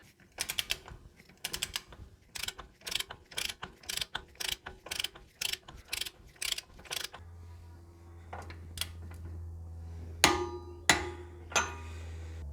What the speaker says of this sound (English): we're going to take our 54mm hub nut socket on a torque wrench and we're going to tighten that lock nut to 43 foot-pounds